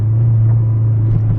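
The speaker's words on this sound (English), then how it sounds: "The car sounds a lot better, especially on downshifts." A Honda del Sol engine with a carbon intake hums at a steady low idle close by, with a deep constant drone and no talking.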